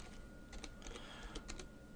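Quiet, fast clicking of computer keyboard keys as a folder name is typed, an irregular patter of light taps with no talking.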